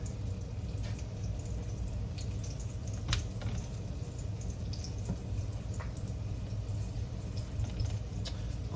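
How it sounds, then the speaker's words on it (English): Hands are washed under a running kitchen tap, a steady close water flow with small splashes and drips throughout. "Okay, wash my hands a little bit."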